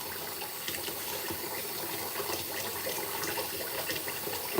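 Hot water runs steadily from a bathroom sink tap, a continuous hissing splash at close range with no talk over it.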